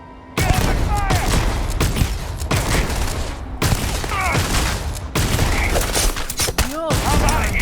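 Gunfire in the video game Starfield, a rapid, loud, dense fusillade of shots and impacts that continues through the whole span, with brief gaps and shouted voices mixed in.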